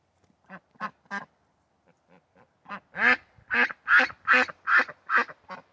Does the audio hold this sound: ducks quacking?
yes